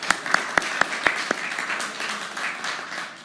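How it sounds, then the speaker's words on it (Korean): A church congregation applauds a Sunday school child's answer during a sermon, a handful of sharp, distinct claps at first, then a softer spread of clapping that carries on under a murmur. "우리 이런 대답이 나왔으면 박수 한번 쳐줘야 됩니다."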